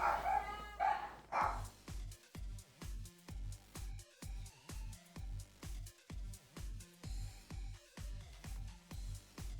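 Dogs bark repeatedly in a steady, rhythmic series of loud, close yaps, preceded by a brief burst of higher whining or yelping, heard through a live-stream microphone with its noise gate set low.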